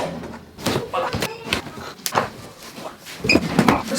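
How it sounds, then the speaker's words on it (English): A cardboard box for an indoor electric pizza oven is pulled open close by, with flaps thumping and scraping in several irregular bursts and rustling handling between them. "let's take it out and let's open this box"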